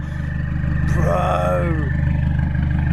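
A straight-piped Audi TT Mk1 turbo engine idles with a loud, deep, pulsing drone, and a rising-then-falling whistle of turbo spool sweeps over it briefly, with voices heard alongside.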